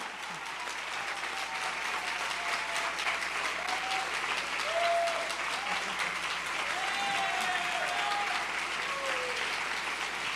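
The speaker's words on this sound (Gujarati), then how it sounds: "તમારી તાળીઓ બીજું કાંઈ હુજવા દેતી નથી" A large crowd claps at the inauguration of the new Vadtaldham Swaminarayan temple in Fremont, California. The applause is dense and sustained, rolling on evenly and loudly for several seconds.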